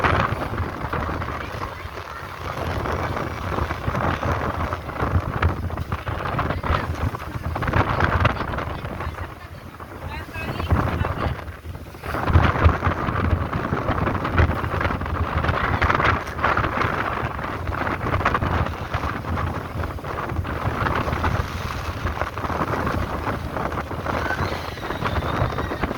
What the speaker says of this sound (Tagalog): Kaya mahangin sa labas.